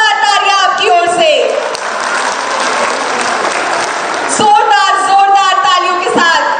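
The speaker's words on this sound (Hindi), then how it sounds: "जोरदार तालियां आपकी ओर से," Loud, sustained applause from an audience at a government benefit-distribution event led by a chief minister in Godda, with a speaker's voice over the start and end of the clapping.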